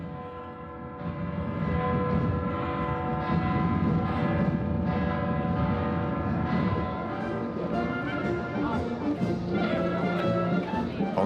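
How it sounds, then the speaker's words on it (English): Church bells ringing out at the basilica in Bari during a religious festival for St. Nicholas, a dense, sustained peal of overlapping tolls filling the space, fairly loud and continuous throughout. "as the church bells ring out to the glory of the city's protector"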